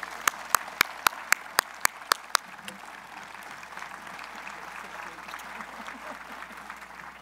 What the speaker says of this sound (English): please join me in a warm round of applause for all the faculty who serve our students